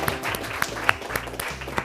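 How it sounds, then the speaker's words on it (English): Scattered clapping from a small audience at an elementary school science bowl, a few sharp individual claps standing out over a soft, uneven patter, with faint background murmur. "Nice round of applause for that Capitol Heights team"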